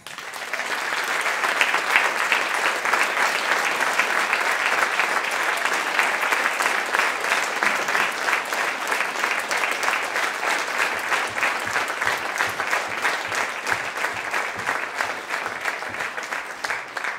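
An audience at an evening event in Iceland breaks into sustained, dense applause that starts abruptly and holds steady, with individual claps growing more distinct toward the end.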